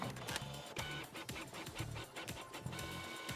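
A printer in a video game runs with rhythmic mechanical whirring and clunking pulses, repeating in a steady cycle under faint background game noise, with no voices.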